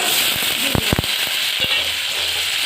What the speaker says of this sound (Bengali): আমি ফোড়ঙে দেবো দুটো তেজপাতা শুকনো লঙ্কা আর গোটা গরম মশলা